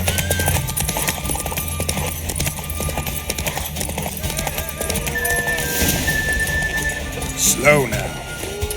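Horse galloping in a race in The Witcher 3 video game, a steady drumming of hooves under continuous game music and ambience, with a character's voice speaking over it.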